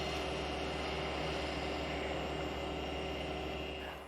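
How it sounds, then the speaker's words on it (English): A gouge takes a shearing cut on spinning wood on a lathe, giving a steady, close, droning hum with a constant scraping hiss for a few seconds before it fades slightly at the end. "I will roll the tool slightly and change my angle so that I am making more of a shearing cut"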